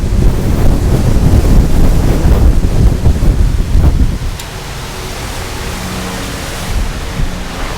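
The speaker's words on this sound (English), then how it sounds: "I apologize for the wind if it's out of control," Gusty outdoor wind batters the microphone by a building in a loud, rough rumble for about four seconds, then drops suddenly to a much quieter, steadier hiss.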